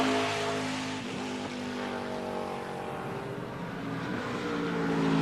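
A Joe Gibbs Racing Toyota stock car races on a road course through a sequence of turns and down the backstretch on its final lap. The engine drones loudly and steadily with harmonic whine, shifting pitch as the car accelerates, and no voices are heard.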